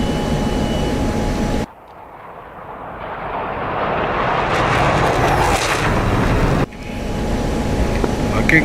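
An A-10C Warthog jet in DCS World swells from a dip into a loud, rising broadband roar as it passes close by, then cuts abruptly back to a steady engine drone, with radio chatter faintly beneath.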